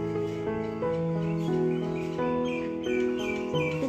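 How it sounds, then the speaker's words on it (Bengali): Morning birdsong with several birds calling at once, steady tonal chirps and warbling phrases overlapping through the whole stretch, moderately close and alone without talk. "আর সকালবেলা একদম পাখির ডাক"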